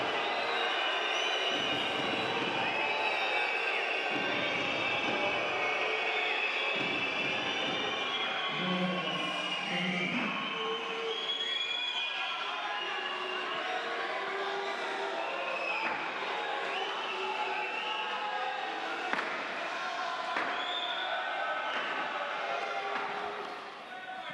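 A loud, noisy crowd at a Davis Cup tennis match between Marin Cilic and Corentin Moutet, a steady roar of chatter, whistles and shouts that fills the whole stretch without letting up.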